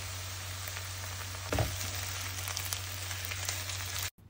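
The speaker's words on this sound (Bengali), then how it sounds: "জাস্ট পেঁয়াজ আর তার মধ্যে একটা তেজপাতা দিয়ে দিলাম।" Sliced onion and a bay leaf fry in oil already flavoured from cooking chicken. A steady, hissing sizzle holds close throughout, with a brief thump partway in, and then cuts off suddenly.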